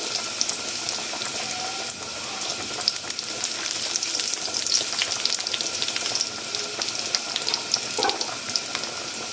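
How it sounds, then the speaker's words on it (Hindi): Steady crackling sizzle of garlic frying lightly in a hot pan, continuous and close, with a brief clatter near the end. "लहसुन हमारा हल्का सा हमें इसको ब्राउन करना है, इसको डार्क नहीं करेंगे।"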